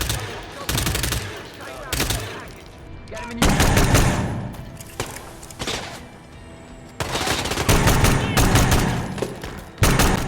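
Rapid bursts of Hitman video-game gunfire in several loud volleys separated by brief pauses, with dense automatic-weapon rattling and booming low end.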